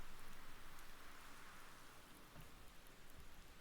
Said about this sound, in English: The rain's stopping.